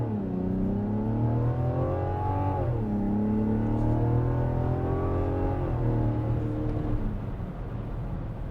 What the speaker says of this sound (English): Computer will engage this weird engine noise inside of the cabin.